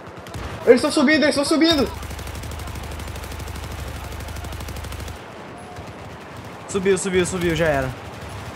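Gunfire in Battlefield 4 zombie mode: a sustained, rapid, rhythmic burst of automatic fire runs for several seconds, with players talking excitedly before and after it.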